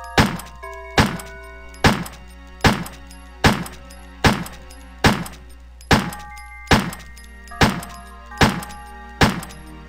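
Regular gunshots from the Resident Evil video game, about a dozen sharp loud reports at a steady pace of roughly one per second, each with a short ringing decay over a constant low background hum.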